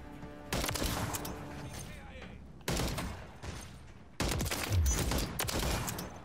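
Rapid bursts of video game gunfire crackle through the clip, with loud volleys at the start, around the middle and near the end, separated by brief quieter stretches.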